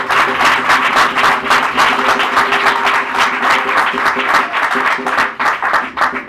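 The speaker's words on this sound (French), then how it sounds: "Il faut acclamer Dieu. Il faut acclamer." An audience at a business seminar applauds steadily and loudly for several seconds, with dense, continuous clapping that fills the room and a faint voice underneath.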